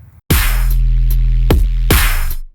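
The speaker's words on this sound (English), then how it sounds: "The sub bass sounds like this." Dubstep sub bass synth made in FL Studio, a loud, deep sustained tone broken by a few sharp retriggers, heard alone with no talking.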